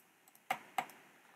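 Two sharp keyboard key clicks, a short gap apart, with a couple of fainter taps before them, in a quiet room.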